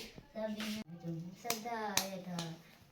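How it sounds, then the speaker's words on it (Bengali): A young boy claps his hands during a prayer at home with his older brother. Several crisp, close claps come at an irregular pace over steady devotional singing. "দাদা প্রার্থনা করছে, ও হাততালি দিচ্ছে।"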